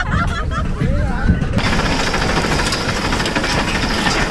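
A tractor engine roars close by as it carries riders along a rocky forest road toward the Kona Malleswara Swamy shrine. The rumble is loud and constant, and it thickens into a dense, rattling din after the first second and a half.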